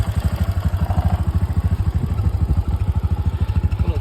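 Close and steady, a Bajaj Discover 150 motorcycle idles in good condition, its single-cylinder engine putting out a rapid, even pulsing thump with light mechanical clatter.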